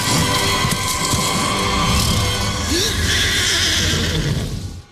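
A horse neighs once in a film effects sequence involving a horse and rider. The whinny cuts through a dense, loud bed of continuous noise and music that fills the whole stretch.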